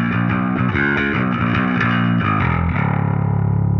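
Passive bass played hard and heavily distorted through an Ampeg cabinet, captured up close on an SM7 microphone. A fast, dense riff rolls on and settles into a sustained, buzzing low note, loud throughout.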